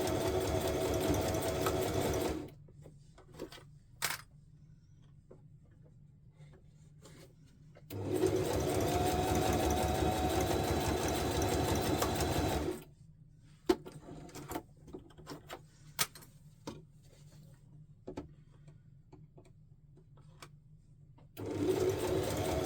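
A sewing machine stitches thick, unwieldy material in close, loud bursts of steady whirring, stopping between runs, with faint clicks and handling noises in the pauses.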